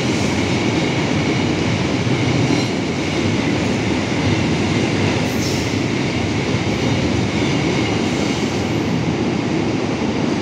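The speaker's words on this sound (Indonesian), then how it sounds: "Angkutan BBM Pertamina biasanya jam-jam segini." A Pertamina fuel-carrying freight train passes on the line near Purwokerto, making a loud, continuous roar of wheels and rail noise with no break throughout.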